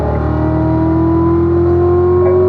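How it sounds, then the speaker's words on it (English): Car accelerating uphill on a race track at Spring Mountain, a loud, close, sustained engine note rising steadily in pitch with no break. "unwind that wheel and squeeze that throttle all the way up the hill"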